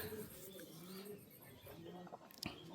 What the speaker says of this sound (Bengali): দেখুন আমার ঘরের পায়রা